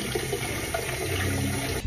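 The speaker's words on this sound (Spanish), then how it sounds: "En esta olla llenamos de agua." Tap water pours steadily into a cooking pot in a home kitchen, a continuous close splashing rush that fills the whole moment without any voices.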